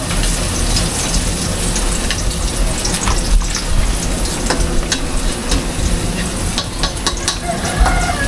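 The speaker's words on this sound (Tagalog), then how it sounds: "gigisa natin na beans and carrots" Beans and carrots with onion and garlic sauté in a hot pan, a loud, close, continuous sizzle with scattered crackles and scraping stirs throughout.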